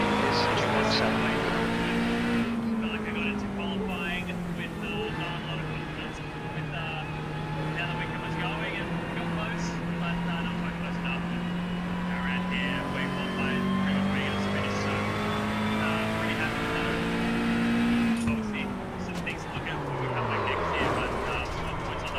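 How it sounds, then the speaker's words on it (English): In the iRacing video game during a 6-hour race at Spa, a race car engine roars steadily with rising and falling revs and shifting gears, loud and close, while a voice talks over it. "Class car approaching."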